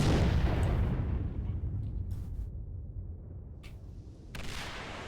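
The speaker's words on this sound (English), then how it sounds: "I was wondering what the fuck made that explosion happen" An explosion in the video game STALKER: Shadow of Chernobyl bursts loudly at the start, then its deep boom decays into a rumbling tail with a smaller thud near the end.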